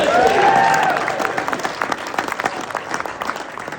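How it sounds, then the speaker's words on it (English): An awards-show audience applauds after a host's prompt, steady crowd clapping for several seconds with a voice briefly heard over the start. "Can we just do one more round of applause for beer people who know how to dress up?"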